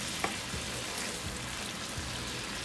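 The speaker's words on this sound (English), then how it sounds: "So just mix it around." Teriyaki sauce thickening in a hot pan, bubbling and sizzling steadily while a utensil stirs it with a few soft scraping clinks, close and continuous.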